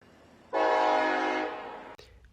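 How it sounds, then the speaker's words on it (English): A train horn sounds one long, loud, steady blast in the town of East Palestine, Ohio, cutting off abruptly, with faint rail noise underneath. "as the sounds of trains continue to run through East Palestine"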